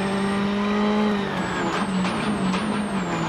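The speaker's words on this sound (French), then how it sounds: "Novikov qui va franchir la ligne d'arrivée. Tout va bien pour le pilote russe au volant de sa Ford" A Ford rally car driven by a Russian driver on the final stretch of a special stage at the Rallye de France Alsace 2013, its engine a loud steady drone whose pitch shifts through gear changes as it passes close by.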